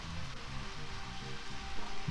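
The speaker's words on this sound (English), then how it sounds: "The rain's so loud in this game." Steady, loud rain in the video game Deadly Premonition Origins, a continuous broadband patter running unbroken through the whole moment with no talking over it.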